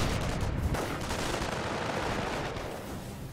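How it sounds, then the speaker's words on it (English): Steady, dense MP40 submachine gun fire and battle noise in a World War II strategy game, a continuous rattle of shots with a sharp louder burst at the very end. "MP40 is just doing nasty damage"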